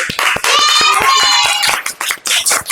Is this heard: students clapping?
yes